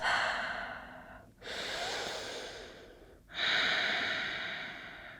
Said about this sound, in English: Slow down that breath